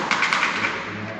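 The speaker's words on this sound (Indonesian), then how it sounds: "cukup untuk ketok-ketokan saja." Several quick, light taps on the viscose-type air filter element of a fuel-injected Honda Beat motorcycle to knock dirt loose, sounding close over a hissy background before fading out.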